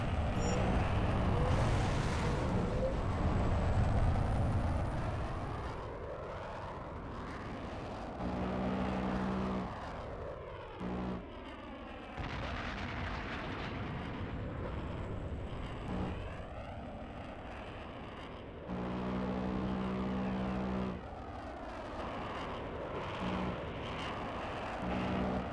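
Aircraft engine roar and bursts of cannon fire in the H.A.W.X. 2 video game during a training mission against a patrolling plane, a steady jet drone broken by repeated rapid gunfire bursts, loud and continuous with no talk.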